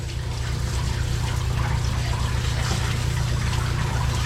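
Steady running water rinsing soap off a Yorkie dog during a bath, a continuous close splashing flow with a low hum underneath.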